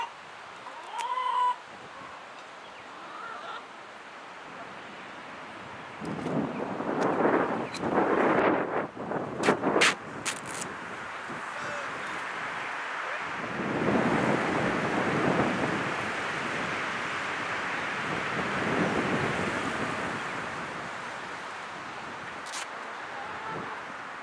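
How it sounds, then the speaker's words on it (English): Strong wind gusting outdoors with loud, surging roars that rise and fall in long waves, buffeting the microphone, with a few brief faint chirps between gusts. "This wind killing me."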